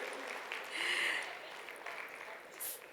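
An audience at a panel discussion gives brief, fairly faint applause, a soft spread of clapping with a little murmuring and a laugh-like bump, quick and light rather than a full ovation.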